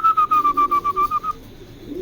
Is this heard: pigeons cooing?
yes